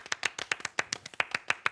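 Sparse, close handclaps in a quick uneven rhythm from a small audience clapping along on request, each clap distinct and sharp, with no voices over them.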